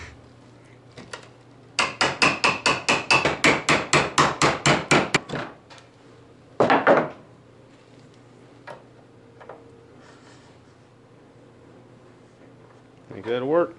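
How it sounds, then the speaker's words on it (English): A chisel held against old barnwood is struck with a mallet in a quick series of about fifteen sharp, evenly spaced knocks. After a pause comes one more louder blow, and a person speaks nearby. "Take the sharp edge of your chisel and line it up where you want things to stop. Make yourself a pretty good little score in there."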